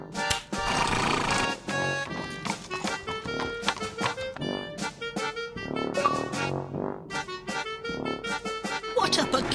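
A horse in the Bertram Fiddle video game neighs and trots amid dense, busy game audio. Loud whinnying cries with clip-clopping hooves run through the full stretch.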